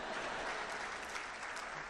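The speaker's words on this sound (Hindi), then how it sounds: "अब आपकी तालियां उठेंगी।" Audience at a Hindi comedy poetry show claps in a short, dense burst of applause, steady throughout with no voices over it.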